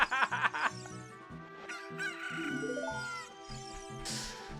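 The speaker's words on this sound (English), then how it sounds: "I use the chicken as a distraction." In Zelda: Ocarina of Time, a game chicken lets out a burst of rapid clucks and a crowing call, loud and close, mixed over bright looping game music with no talking.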